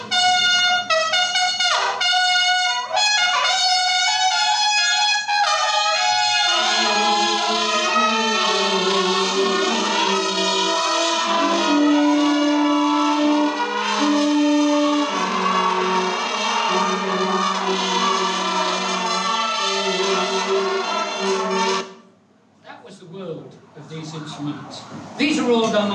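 An ancient brass war instrument sounds loud and continuous, blaring layered sustained tones with shifting pitches for over twenty seconds before cutting off, followed by a brief quieter stretch and a final burst.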